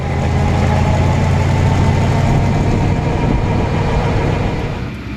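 A 1932 Ford Deuce Highboy Roadster engine runs steadily close by with a loud, even low rumble, fading slightly toward the end, with no talking.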